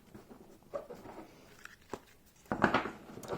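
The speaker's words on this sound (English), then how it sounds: "You can easily shuffle them." Tarot cards from a Jacob Jerger deck in the Besançon pattern riffle and slide in brief, dry rustling bursts, with a louder, denser flurry of card noise toward the end, close and quiet with no speech.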